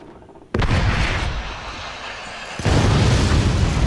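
Rocket explosions in the shooter game Crucible, two massive loud blasts, the first bursting in after a short quiet lead-in and the second piling on about two seconds later, both sustaining a dense roaring rumble.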